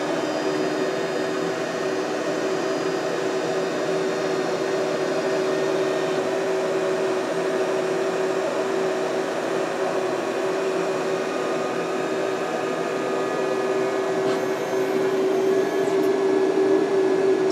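Steady loud whirring hum from the ventilation of a Dremel laser cutter as the machine boots up, continuous and unchanging throughout with no voices.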